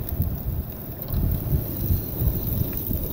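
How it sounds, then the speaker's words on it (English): Gale-force wind blows outdoors at a lakeside shore lunch spot, a steady low rumbling roar with gusty swells and buffeting against the microphone, continuous throughout with no talk. "You also see it's gale force wind right now, so I'm luckily out of the wind."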